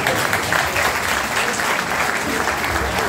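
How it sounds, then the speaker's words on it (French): Strong, continuous audience applause for a professor, a thick, even wall of clapping sustained for about three seconds. "je demande de l'applaudir encore très fort, s'il vous plaît"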